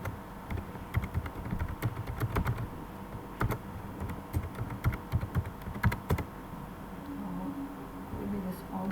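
Fingers tap on a computer keyboard while filling an online form, a close, irregular run of clicking keystrokes with a person talking faintly in the background.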